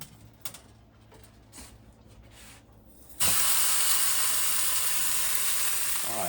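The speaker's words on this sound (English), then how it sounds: "The pan is sizzling hot." Pork roast dropped into a sizzling hot pan with olive oil, quiet handling sounds giving way to a sudden loud, sustained frying hiss and crackle that continues steadily.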